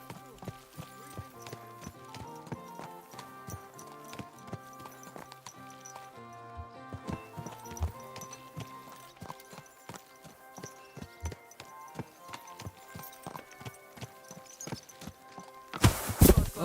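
Horse hooves clip-clopping at a steady trot in Kingdom Come Deliverance 2, a soft rhythmic run of hoofbeats under talking, ending in a sudden loud crash.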